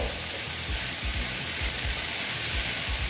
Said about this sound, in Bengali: ঢেঁড়সটা দিয়ে ভেজে নিচ্ছি